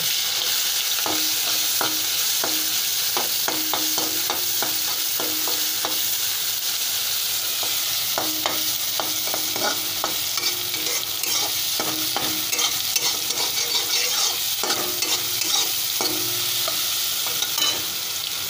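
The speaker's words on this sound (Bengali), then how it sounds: "দিয়ে এতে মাশরুমটাকে ভেজে নেবো" Mushrooms frying in mustard oil tempered with whole cumin: a loud, constant hiss of hot oil fills the background while a spatula scrapes and taps in bursts of quick strokes, close up, with no speech.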